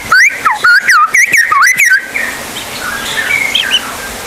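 A man whistles an imitation of a Bali myna call, a rapid series of sharp, rising and falling whistled notes, loud and close, followed by fainter softer whistles trailing off over background noise.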